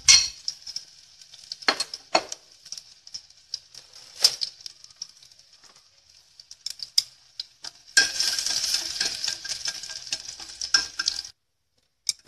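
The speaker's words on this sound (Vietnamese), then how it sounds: "Sau khi dầu ăn nóng thì mình sẽ cho vào đây là muỗng tỏi để mình phi thơm." Garlic fries in hot cooking oil in a pot, starting with quiet clinks and stirring before a bright, loud sizzle bursts in and holds for several seconds, then stops.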